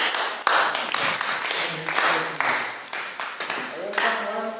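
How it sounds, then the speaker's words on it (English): A class of students claps in a classroom, loose bursts of hand claps that come in uneven waves, loud and close, with voices mixed in among them. "Can you clap for this?"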